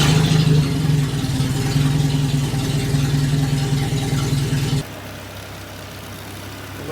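A car engine idling with a newly fitted exhaust and the choke partly out, a steady low hum with a faint rattle that drops to a softer, quieter drone partway through.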